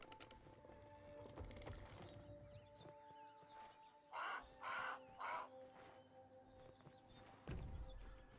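A bird in the video game Grounded gives three harsh, crow-like caws in quick succession, loud and near against a quiet background hum.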